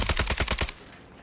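AK47 fired in the Warzone video game, a fast burst of about seven close, loud shots in steady rhythm, then a short fading tail.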